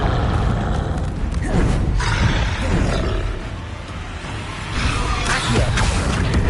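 The Confringo fire blast spell explodes in the video game Hogwarts Legacy, giving loud roaring booms and whooshes, with a big blast early and another surge near the end amid constant game noise.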